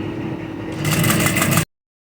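A sewing machine runs a line of stitches right along the edge of a fabric piece, a steady fast mechanical whir that starts up, holds for about a second, then stops abruptly.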